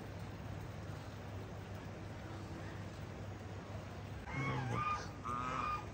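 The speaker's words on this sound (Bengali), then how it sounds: "এই হাঁসগুলো, এগুলো এখানকার, ভালো করে লক্ষ্য করলে বুঝবে এগুলো নর্মাল হাঁস না আমাদের এখানকার।" Local ducks at a riverside stop in East Sikkim give a few nasal honking calls near the end, over a low steady background rumble.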